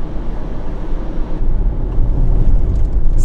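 Steady low cabin drone from a Honda Step WGN with its 1.5 turbo engine while driving, a smooth, even hum with road and wind noise and no talking.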